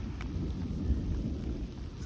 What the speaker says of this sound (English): The thunderstorm chasing us.